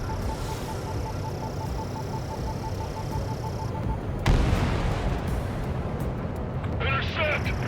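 Anti-aircraft guns fire in Ace Combat 7 during a strike on radar vehicles, heard as a dense, rumbling barrage of bursts with a sharp loud blast partway through and crackling pops near the end, while voices talk over the action.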